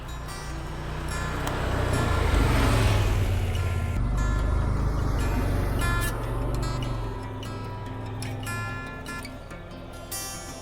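A Can-Am Defender HD10 side-by-side drives through a snowy winter camp, its engine a steady, loud low rumble that swells and holds, with clattering and rattling over the top toward the end.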